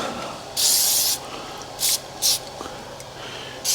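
Activator hisses from an aerosol can during assembly of a Subaru STI EJ25 engine, heard as one longer spray followed by three short bursts, close and sharp against a quiet workshop background.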